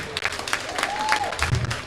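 Audience applause at a Liberian association's 50th anniversary celebration, a short burst of crowd clapping with a voice heard briefly over it.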